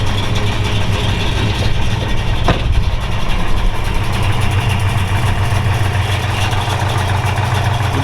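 A cold 1971 Plymouth GTX with a 440 Six Pack V8 rumbles loudly and steadily at close range, holding a throbbing idle-to-raised rev with no voices over it.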